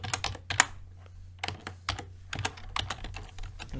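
Fast, uneven typing on a computer keyboard while writing game code, crisp close-up key clicks in quick clusters with brief pauses, no talking.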